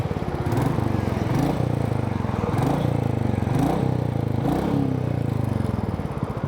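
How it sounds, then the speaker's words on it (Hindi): Royal Enfield Meteor 350 motorcycle idling nearby: a steady low thumping single-cylinder chug with mechanical clatter and slight periodic swells, moderately loud and uninterrupted, with no talk over it. "आके आपको थोड़ा इंजन नॉइज़ सुना देता हूँ मैं।"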